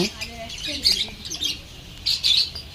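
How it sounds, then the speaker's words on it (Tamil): African lovebirds at a bird park give sharp, repeated squawks in bursts, moderately close, with a faint voice murmuring underneath. "காதல் பறவைகள் ஆப்பிரிக்க நாட்டோட காதல் பறவைகள் இது"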